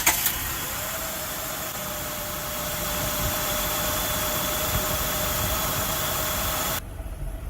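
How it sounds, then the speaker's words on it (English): A car engine, freshly fitted with a cleaned throttle body after its RPM had been jumping, starts and settles into a steady, even idle hum with faint vibration, close by and without talk. "we're going to start up the motor and let it run"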